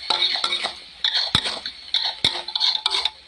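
Food being stir-fried and tossed in a pan, with repeated clinks and scrapes of a utensil against the pan in an irregular rhythm and a steady bright sizzle underneath. The sound is close and moderately loud, with no talking.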